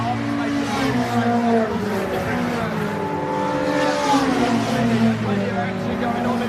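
Mini 7 Libre race car at Silverstone circuit passing by with a loud, sustained engine drone whose pitch rises and falls as it revs, other race cars blending in, under steady commentary talk.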